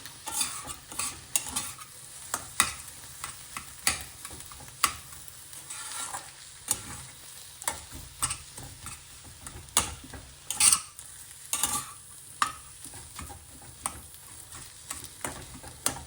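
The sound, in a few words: potato filling with coriander being stir-fried and mixed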